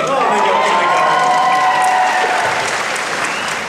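Convention panel audience at San Diego Comic-Con cheering and applauding loudly, a dense wash of clapping and whoops from a large crowd that swells and then slowly tapers off.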